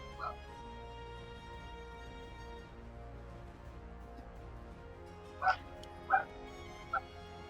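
Dog whimpering and yipping in the background, three short high yips near the end over a steady low hum, faint and distant.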